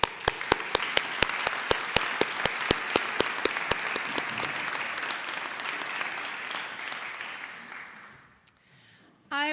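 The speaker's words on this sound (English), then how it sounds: "So please clap, cheer, and celebrate yourselves and the others around you." Graduates at a college graduation ceremony clap and cheer, a dense steady wash of applause from a large indoor crowd with sharp rhythmic claps standing out near the front, fading out toward the end.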